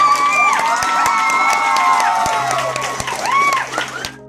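A crowd at the Nightmare Nights 2016 event cheering a public proposal, a loud swell of high-pitched shrieks, whoops and excited shouting with scattered claps that fades out at the end.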